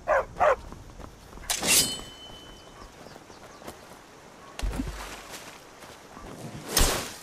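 Two quick barks from a dog in a video game open the clip. Soft footsteps and scattered sharp clicks and thuds follow over a faint, hissy game ambience.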